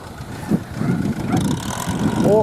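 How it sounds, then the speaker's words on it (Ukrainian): A tractor pulls a Bomet 2x30 plough uphill through packed, compacted soil, its engine labouring with a loud, continuous rumble that swells and eases throughout. "тут вгору тяжко трактору, земля трошки укатана"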